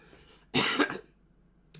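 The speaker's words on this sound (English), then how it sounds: "First cough." A single loud, close cough bursts out after a quiet moment, followed by a faint short sound near the end.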